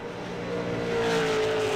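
V8 supercar racing engine in iRacing at Road America, a beaten-up Oceanic Racing car, droning loud and steady with a rising tonal whine, continuous with no talk.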